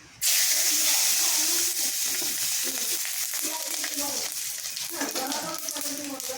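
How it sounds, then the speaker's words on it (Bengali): Four garlic cloves, a little cumin and two chillies hit hot oil in a wok, bursting into a loud, close sizzle that holds steady with light crackling and stirring, and a voice talks over it. "কড়াইয়ে তেল দিয়ে দিয়েছি এবার আমি দিয়ে দিচ্ছি চারটা রসুন একটু জিরে দুটো লঙ্কা ফোড়নে"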